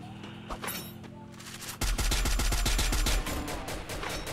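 Rapid bursts of automatic gunfire in the video game Free Fire, sparse shots first, then a dense, loud string of fast cracks that keeps going to the end.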